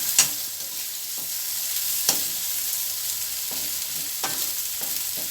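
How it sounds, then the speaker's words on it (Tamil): A flipped egg fries in a pan for egg rice, a soft continuous sizzle with a few sharp clinks and scrapes of a spatula spaced through it. "அந்த பக்கம் வெந்துருச்சு, இப்போ இந்த பக்கமும் வேகட்டும்."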